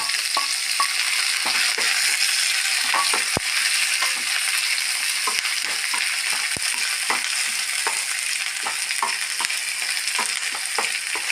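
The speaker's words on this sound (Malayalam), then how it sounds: "നന്നായിട്ട് ഫ്രൈ ആവണം" Crushed garlic, shallots and curry leaves frying in hot oil for a bitter gourd dish, a dense continuous crackling sizzle close by, broken by frequent sharp pops and spoon scrapes, with no talking.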